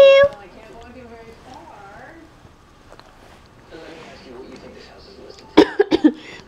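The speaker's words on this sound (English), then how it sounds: "Mommy cannot get rid of this cough." A few sharp coughs in quick succession near the end, close and loud, after a stretch of quiet baby babbling and soft talk.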